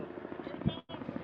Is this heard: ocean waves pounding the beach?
no